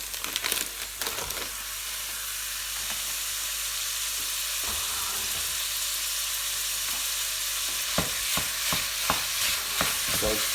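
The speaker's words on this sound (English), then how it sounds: "So just break it up as it cooks and browns off" Minced lamb, 500 g, sizzles steadily in olive oil in a pan, a continuous close frying hiss broken by scraping stirs and a run of sharper clicks and knocks near the end.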